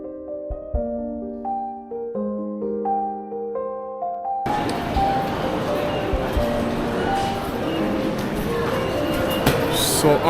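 Shinkansen station in Hiroshima, Japan: a melodic electronic chime plays first, then a loud, broad rush of a high-speed train takes over and continues steadily to the end, with faint station clatter in the background.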